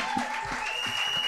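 Short stretch of audience applause at a gospel cabaret show, a steady clatter of clapping with faint voices mixed in.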